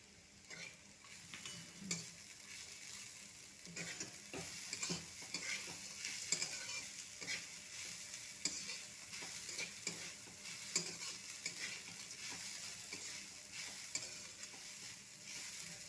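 Grated coconut frying in a pan with curry leaves and chopped green chillies, stirred steadily: a continuous bright sizzle with soft scraping strokes throughout, close and moderately quiet, with no talking.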